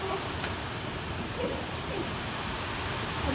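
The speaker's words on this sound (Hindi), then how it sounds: "ये देखो कितनी तेज बारिश हो गई भाई।" Heavy, steady rain pours down in Dehradun, a dense continuous hiss with no pauses or breaks throughout.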